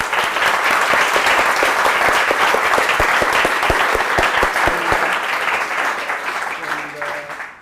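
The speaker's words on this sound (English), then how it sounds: "So a big applause for all the speakers." An audience at a leadership masterclass claps for the speakers, a dense burst of applause that stays loud for several seconds before tapering off at the end.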